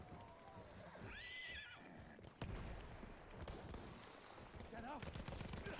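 A horse in the World War I shooter Battlefield 1 whinnies loudly and close, with a second shorter neigh later, amid gunfire, clip-clop and game noise.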